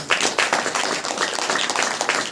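A church congregation at a Saturday prayer meeting claps together, dense rapid clapping that fills the short moment, close and loud with no clear talk over it.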